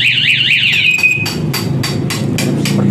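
A Panastar alarm fitted to a Yamaha NMAX scooter sounds loudly up close, first a rapid warbling siren tone, then a series of sharp repeated chirps and beeps over a steady low hum.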